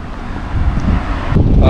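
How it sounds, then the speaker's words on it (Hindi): Cool wind blowing outdoors on a sunny day in rural Canada, a steady low buffeting rumble against the microphone that grows stronger toward the end, with no voices. "ठंडी हवा चल रही है"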